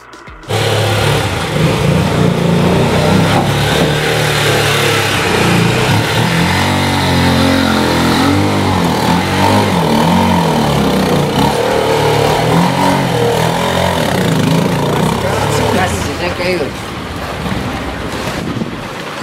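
Motorcycle riding on a mountain road in Peru between Cusco and Puno, heard as a steady, loud rush of wind buffeting the microphone over a low engine drone, continuous for the whole ride with no talk.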